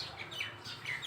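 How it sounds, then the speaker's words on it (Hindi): A sparrow perched near its nest chirps in faint, high, thin repeated calls over a steady background hiss. "ये देखो बेचारी चिड़िया।"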